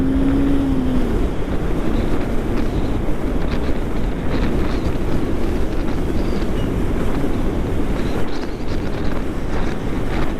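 Strong wind roars steadily on a mountain road on the Manali to Delhi route, a loud continuous rumble and buffeting against the microphone that lasts throughout without a break.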